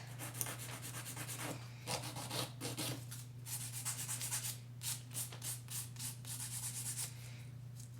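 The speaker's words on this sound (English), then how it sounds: "And buff off any spots that are still bumpy." A buffer rubs over an acrylic coffin nail to smooth bumpy spots, making steady back-and-forth scratchy strokes close up over a constant low hum.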